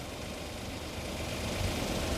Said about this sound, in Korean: 엔진 진동 소리 한 번 더 들어보시고요